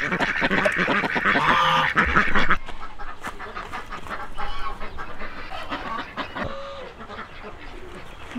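Ducks quack repeatedly at a Thai farm near a pig pen, the calls loudest and densest early on, then thinning into scattered squawks over a noisy outdoor background.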